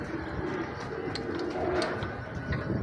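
A flock of pigeons coos across a rooftop, soft overlapping calls layered over a steady low murmur of wings and ambient noise, moderately near and continuous.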